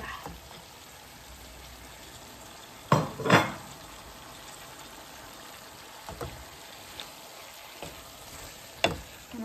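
Mixed peppers and tomatoes frying in a browned spice paste, a steady low sizzle with a few sharp clatters of a spoon stirring against the pan.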